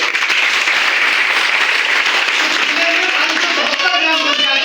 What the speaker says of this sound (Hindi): तो एक बार प्रधान जी के लिए ताली।